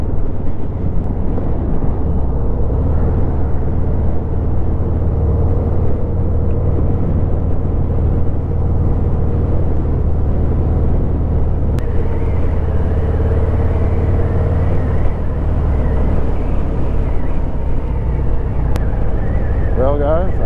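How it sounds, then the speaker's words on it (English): A 2019 Harley-Davidson FXDR motorcycle cruises along the interstate, giving a steady, loud low engine drone mixed with wind rush that holds for the whole stretch. "the FXDR handles the interstate really well"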